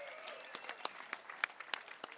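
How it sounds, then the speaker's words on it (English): Scattered applause from an audience at a skateboarding hall of fame induction ceremony, thin and uneven, with a handful of distinct sharp claps popping out over a soft background patter. "Give him another round of applause."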